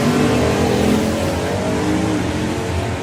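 An orange Mustang drag racing car launches at a drag strip, a loud, dense engine roar at full throttle that stays close and steady, easing slightly toward the end.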